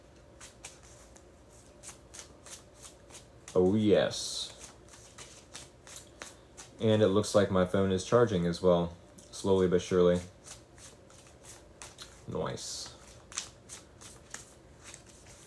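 Tarot cards being shuffled in riffling bursts, a short burst first and then a longer run of rapid flutters, close and fairly loud, with someone talking quietly between them.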